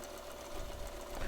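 A Brother LS 2400 sewing machine runs steadily while stitching a straight line, giving a close, continuous mechanical whir with quick needle chatter in a brief burst.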